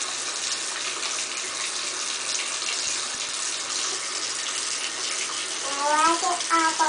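Tap water runs steadily into a sink while a child's hands are rinsed, a close constant rushing splash, with a brief squeaky vocal sound near the end.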